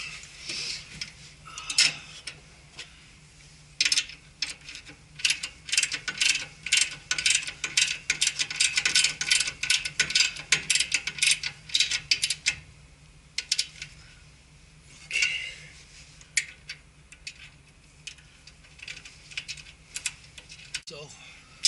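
New motor being fitted into a Luxair HVAC package unit: irregular bursts of rapid ratchet-like clicking and metallic ticks, close and moderately loud, with quieter pauses between them.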